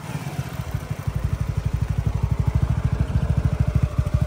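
A Suzuki SF250 or Yamaha MT-03 motorcycle engine runs close by with a fast, even pulsing thrum that swells slightly as the throttle is worked, loud and alone.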